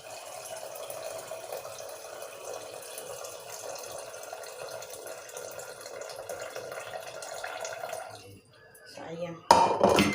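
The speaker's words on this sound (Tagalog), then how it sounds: "yung ipapatubig ko sa sinaing ko ay yung tubig ng ating chicken na pinakuluan" Broth from boiled chicken is poured into a pot of rice, making a steady close splash and trickle for about eight seconds, then a pause and a sharp clink of a pot or utensil.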